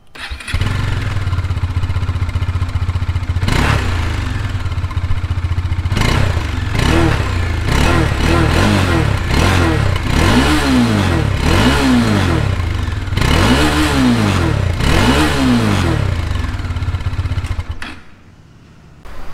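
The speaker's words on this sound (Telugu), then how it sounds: "ఇప్పుడు స్టాక్ ఎగ్జాస్ట్ చెక్ చేద్దాం." A Bajaj Dominar 400 motorcycle with stock exhaust starts and idles, then revs repeatedly in rhythmic bursts through its exhaust, loud and close, before cutting off at the end.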